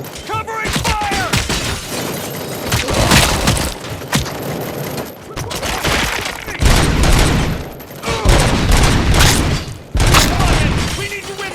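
Gunfire in the shooter Robocop: Rogue City, heavy bursts of shots and booms that come in loud waves between short lulls, with shouting voices mixed into the battle.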